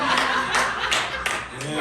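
A scattered burst of hand clapping and chuckles from a small crowd in a bar and grill during a comedy set, uneven claps rising and fading over murmured voices.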